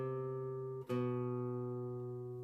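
Two sustained Renaissance-style melodic notes, B then C and back to B, ring steadily with a brief dip and re-attack near the middle, clear and alone.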